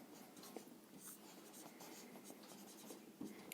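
A pen scratches across paper while a maths solution is written out, faint continuous scribbling strokes close by with no talking.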